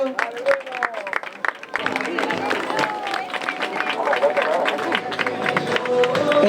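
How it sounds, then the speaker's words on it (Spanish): Applause and cheering for a swimmer at an open-water swim crossing to Illa de Rúa in Ribeira, brisk clapping from a gathered crowd with voices chattering through it, growing fuller toward the end. "Un aplauso para Bruno."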